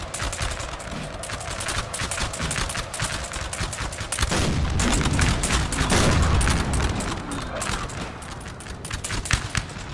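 Cannon and musket fire crackle and boom in a Napoleon: Total War 3 online battle, dense rapid volleys with a heavier surge of shots midway, sustained and loud throughout.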